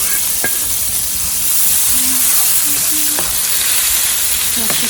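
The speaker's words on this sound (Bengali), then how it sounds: "এখন এই ভাজা তেলেই আমি পেঁয়াজটা দিয়ে দেবো।" Onion frying in hot oil that was just used to fry other food: a steady, close, loud sizzle and hiss runs throughout, with a few light clinks and stirring scrapes.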